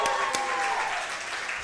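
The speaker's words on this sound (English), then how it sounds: "Round of applause for the volleyball team." A crowd at a live volleyball team show in a Buffalo Wild Wings restaurant applauds steadily, with a couple of sharp claps at the start and the sound fading slightly.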